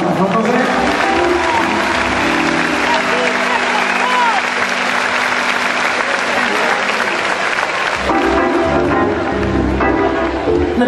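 Loud, sustained audience applause at a concert in the Multiusos arena in Gondomar, a thick wash of clapping from a large crowd with cheering over music, continuing throughout.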